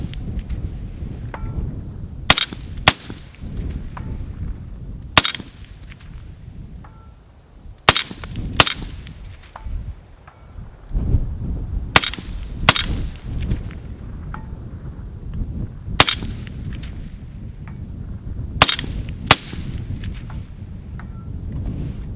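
Rifle shots from a Ruger Mini 14 firing cheap 55 grain ammunition outdoors, about ten sharp loud cracks spaced irregularly a second or two apart, some in quick pairs, over steady wind noise.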